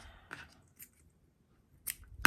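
Scissors snip through ribbon while making a craft-fair gift, a few short crisp cuts separated by silence, close and quiet, with the last snip the loudest.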